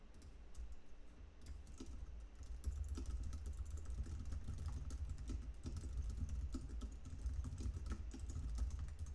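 Fast, continuous typing on a computer keyboard during a live music studio session, a steady stream of clicks over a constant low background hum, with no talking.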